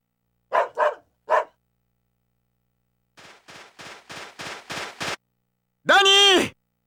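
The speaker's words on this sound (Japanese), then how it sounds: "僕の愛犬でね、利口な猟犬なんだ" Danny, a clever pet hunting dog in an animated Jojo's Bizarre Adventure scene, gives three sharp barks, then a quicker run of softer barks, and finishes with a loud, drawn-out yelping howl, all clear and close.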